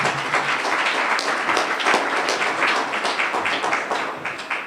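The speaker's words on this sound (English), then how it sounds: "Give him a round of applause." An evening audience at a high school STEM program event applauds a senator's staff member as he is introduced, a full, steady roll of many hands clapping at close-to-moderate distance, continuous throughout with a slight fade at the end.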